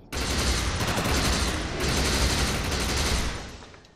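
Sustained automatic gunfire from the video game Defiance as the player shoots an enemy projection, a dense loud rattle of rapid shots lasting about three seconds with a brief dip midway before tailing off.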